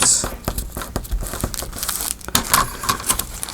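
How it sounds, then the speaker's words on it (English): Crisp crinkling and snipping of a paper bag as long scissors cut along its top, a series of irregular rustles and cuts close by, with faint speech in the background. "we're just going to cut right along the top of the bag"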